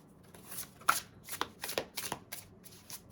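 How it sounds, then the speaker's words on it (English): Homemade cards being shuffled by hand close up, a quick series of papery riffles and slaps in uneven bursts over a few seconds, with no talking. "Let's get a couple of random homemade cards."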